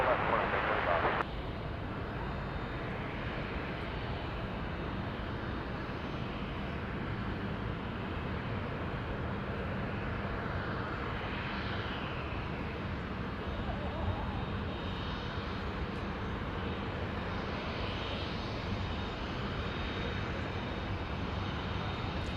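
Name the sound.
airliner taking off from runway 34 left, Sydney Airport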